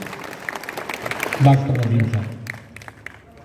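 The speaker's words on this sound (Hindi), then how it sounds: "इसलिए भी इनके लिए एक मरतबा ज़ोरदार तालियाँ बजा दीजिए" A mushaira audience in Nizamabad breaks into applause, a short burst of clapping from a hall crowd that swells briefly and fades while the host's amplified voice speaks over it.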